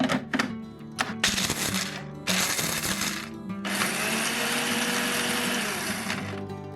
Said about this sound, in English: Add some almonds to a blender and pulse them into a fine powder.